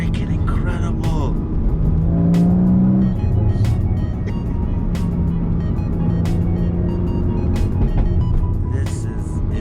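A 2015 Porsche Cayman GTS engine pulls hard while driving, a loud, close rumble that rises in pitch as it accelerates, then settles into a steady cruising drone, with voices now and then over it.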